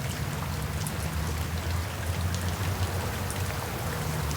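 Steady rain falls on a rainy day, an even, close hiss of raindrops on surfaces with no break, alone and without talk.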